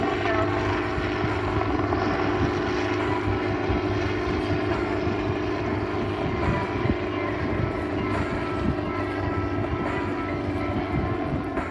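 A propeller-driven aircraft, a type first introduced in 1964, passes at the Southport Airshow, its engine a loud, steady droning roar throughout, with no talk.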